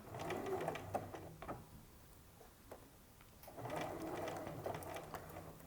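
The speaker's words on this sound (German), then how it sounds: "Und näht nun bis zu dieser kleinen Ecke." A sewing machine stitches the lining at a skirt slit in two close bursts of fast, rhythmic needle chatter, separated by a quiet pause with a few small clicks.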